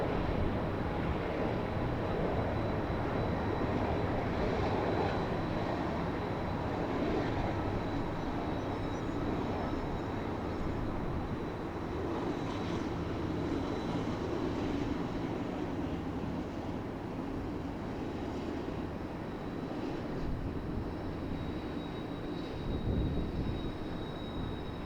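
A train rolls across a tall railroad bridge, a continuous loud rumble and roar of wheels and cars holding steady throughout, with no voices.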